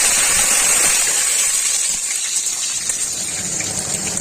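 Potatoes drop into hot oil already seasoned with torn bay leaves and panch phoron, producing a loud, dense, continuous sizzle that eases slightly as it goes on.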